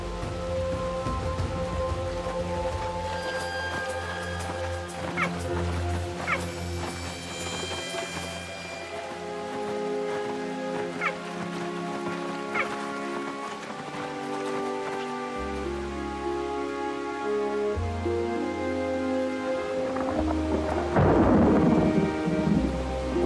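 A thunderstorm with rain and gusty wind gives low thunder rumbles and a steady patter of rain under a musical backdrop, growing louder toward the end.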